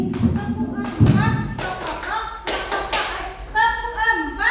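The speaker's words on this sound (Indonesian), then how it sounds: "Kalau tepuk 4 seperti ini." A primary-school class claps in a four-beat routine, sharp bursts of hand claps mixed with a teacher's voice and children's chanting, loud and close in the room.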